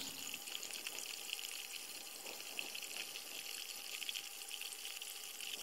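Water trickles and gurgles inside a septic distribution box fed by a slow-draining leach field pipe, a faint, steady hissing flow with no talking.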